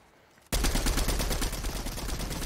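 Sustained rapid gunfire from a minigun in Fortnite, starting abruptly and continuing as a loud, dense rattling burst with no talk over it.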